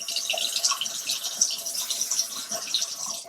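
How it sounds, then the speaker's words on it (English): A bathroom faucet runs warm water for washing makeup brushes, a steady close hiss and splatter with faint dripping and no voices. "So I'm going to put on some warm water."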